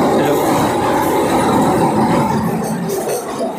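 A moving night passenger train between Pancharatna and New Bongaigaon, almost empty inside, gives a loud continuous rumble and rattle of wheels and carriage, steady throughout.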